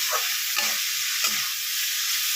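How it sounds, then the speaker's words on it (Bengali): Potato and pointed gourd frying with chilli powder and spices sizzle steadily in a pan, with three soft scraping stirs of a spatula spaced across the constant hiss, no voices. "দিয়ে আমি এটাকে একটু নাড়াচাড়া করে দিচ্ছি"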